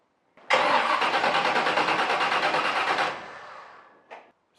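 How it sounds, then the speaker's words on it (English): A Chevy starter cranks steadily for about two and a half seconds, loud and close, before the engine catches and settles, followed by a brief faint noise at the end. "Starter sounded great."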